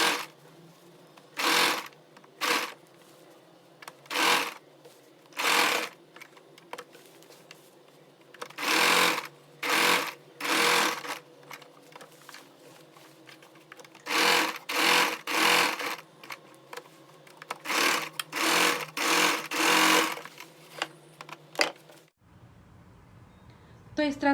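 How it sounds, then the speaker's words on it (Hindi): A sewing machine stitches boat neck fabric alongside buckram onto a kurti, running in repeated short bursts of whirring with brief pauses between, close and clear, with no talking. "अब हम इस तरह से बुकरम के बगल बगल इसमें सिलाई लगा लेंगे।"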